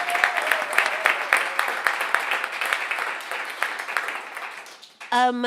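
An audience at a live radio show applauds the band with sustained, lively clapping and a few cheers, slowly tapering off before a brief tone cuts in at the end.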